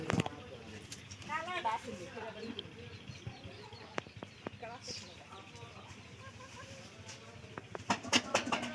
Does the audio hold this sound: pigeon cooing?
yes